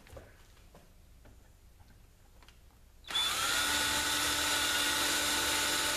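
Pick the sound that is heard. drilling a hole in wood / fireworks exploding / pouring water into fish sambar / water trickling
drilling a hole in wood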